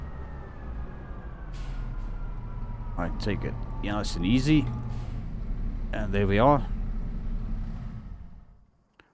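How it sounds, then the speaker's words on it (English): Tractor engine in Farming Simulator drones steadily while backing slowly into a parking spot, a low continuous rumble with a faint high whine, under a voice, fading out at the end. "we need to reverse back in here. That is where the tractor belongs."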